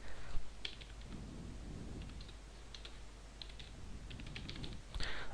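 Computer keyboard typing at a Linux terminal while configuring SSH on Red Hat Enterprise Linux 6, a run of quiet close key clicks in irregular bursts ending with a sharper Enter press, no talk.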